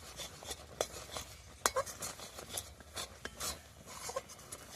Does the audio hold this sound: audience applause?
no